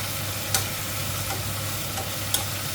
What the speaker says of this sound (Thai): ผัดให้สุกๆ